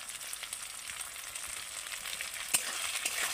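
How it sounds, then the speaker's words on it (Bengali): Onion and tomato with salt frying in a pan while being stirred, a steady close sizzle with soft scraping strokes and one sharper clack near the end. "এবার আমি এইভাবে ভালো করে নেড়ে নেড়ে ভেজে নেব।"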